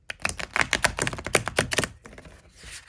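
A tarot card deck is shuffled close up, giving a rapid run of crisp flicking and tapping clicks for about two seconds before trailing off into a soft rustle.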